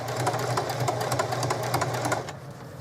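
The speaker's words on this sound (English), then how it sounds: "I'm going to go ahead and do a little back stitch." A sewing machine runs a short back stitch along the seam of a jeans back pocket, a steady rapid rattle of needle strokes that stops abruptly near the end.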